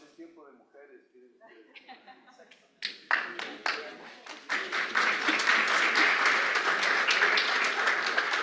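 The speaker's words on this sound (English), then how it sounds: "I want to ask for a round of applause for our panel members" Applause for panel members at the close of an international forum on agricultural soils. It starts with speech and a few chuckles, then scattered claps build into steady, fairly loud clapping from the audience.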